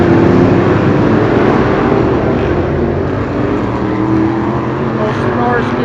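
Vintage race car engines, mostly Chevys with a Ford among them, at the Shadybowl third-mile oval roar loudly and continuously, a dense, sustained drone that fills the whole stretch without pause.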